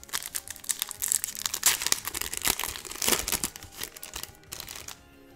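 A Magic: The Gathering Dominaria United booster pack being torn open, with close, loud crinkling and ripping of foil wrapper in irregular bursts for several seconds before it quiets.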